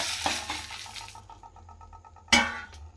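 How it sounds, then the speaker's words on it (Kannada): Food frying in a pan on a gas stove, a soft broadband sizzle joined by faint stirring and a sharp metallic clink of utensil against pan near the end, no voices. "ಸ್ವಲ್ಪ ಫ್ರೈ ಆಗಲಿ"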